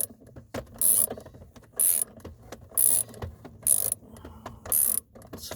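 Ratchet wrench with a flexible head working on a 2008 Dodge Avenger 2.4 shifter assembly, five evenly spaced bursts of quick clicking pawl strokes with short pauses between, close and fairly quiet.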